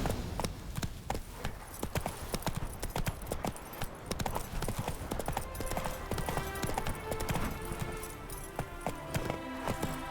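Horse hooves clip-clop steadily at a brisk pace in The Witcher 3: Hearts of Stone, rhythmic and close, with faint game music and ambience in the background and no talk.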